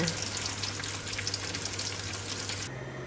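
Steady crackling sizzle of potato fritters frying in hot oil fills the clip, constant and close, with a slight drop in the hiss near the end.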